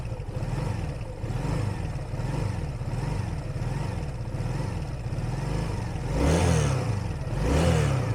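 Cold Honda Benly motorcycle engine running on choke, a close, steady rhythmic putter of a small engine with pulsing exhaust beats and a louder surge of revs near the end.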